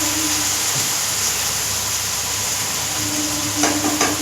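Masala of ginger-cumin paste, salt, turmeric and chili powder frying in a pan, a steady soft sizzle and hiss with light stirring scrapes, close and continuous, no voices.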